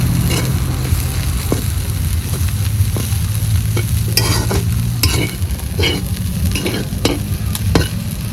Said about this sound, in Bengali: একটু নাড়াচাড়া করে নিলাম এবার নামিয়ে নিচ্ছি